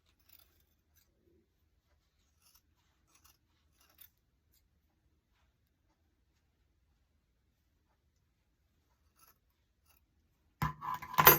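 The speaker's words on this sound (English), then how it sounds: "I'm just going to continue to cut that all the way down to the backing as much as I can" Scissors snip through craft material down to the fur backing for a handmade gnome; after a long near-silence with a few tiny taps, close, crisp cutting sounds arrive in the last second.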